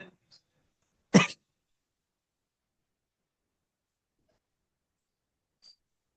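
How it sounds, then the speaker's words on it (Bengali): One short, sharp cough, close and fairly loud, then near silence with only a couple of tiny faint noises. "কি কাশি আসতেছে কেন?"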